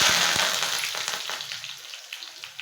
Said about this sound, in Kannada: ಎಣ್ಣೆ ಆರುತ್ತೆ ಸ್ವಲ್ಪ ದೂರ ನಿಂತ್ಕೊಂಡು ಹಾಕ್ಬೇಕು